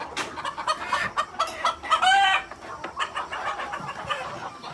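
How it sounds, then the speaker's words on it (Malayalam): Native country chickens cluck in a steady jumble of short calls on a poultry farm, with one louder, drawn-out call standing out near the middle, fairly close. "നാടൻ കോഴികളാണ് എൻ്റെ അടുത്തുള്ളത്"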